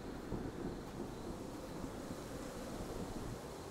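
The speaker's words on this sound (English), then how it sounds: "Thunder." Thunder rolling through a stormy night outdoors, a steady low rumbling roar with wind-like broadband noise that holds at an even level throughout, with no voices.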